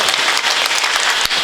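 A crowd at a Marathi kirtan claps loudly and continuously, a dense close wash of hands with one sharp clap standing out near the end.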